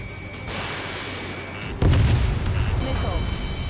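Missile explosion in Call of Duty: a sudden loud, close boom midway that rolls into a sustained rumble, after quieter battlefield ambience and faint distant shots.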